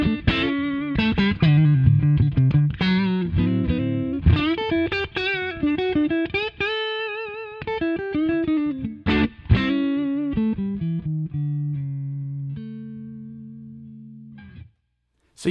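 Distorted electric guitar plays a bluesy riff of bends and quick runs, ending on a few sustained notes that fade out.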